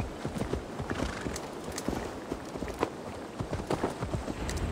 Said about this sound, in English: Oh, the donkeys! I was wondering what they were.